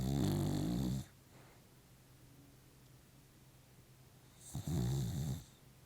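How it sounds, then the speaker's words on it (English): Two loud, rasping snores from a dog, one at the start and one near the end, separated by a long quiet stretch. "Bailey, you can stop snoring anytime"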